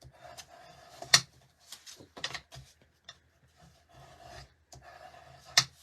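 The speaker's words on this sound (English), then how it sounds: "we're going to turn this one out and burnish it on both sides" Folded cardstock card being burnished, soft close rubbing and scraping strokes in short uneven bursts, with a couple of sharp taps.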